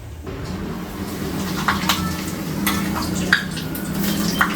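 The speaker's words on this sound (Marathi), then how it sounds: "आता इकडे आहे पापड तळून घेते कढई माझी खूप जास्त तापली" Papad frying in oil in a very hot kadhai gives a continuous close sizzle, broken by scattered sharp crackles and pops as it cooks.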